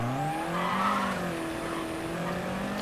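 A car in Mafia 3 drives steadily with its engine droning and rising in pitch as it accelerates, tires faintly squealing, a continuous close motor sound with no talk.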